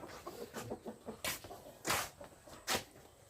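A chicken clucks in short bursts, interrupted by a few sharp louder squawks, fairly faint and close.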